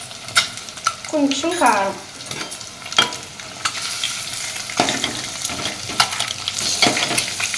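Chicken curry frying and stirred in a pan with salt and chili powder added, a steady sizzle with repeated scraping stirs throughout, close and fairly loud, a voice speaking briefly over it.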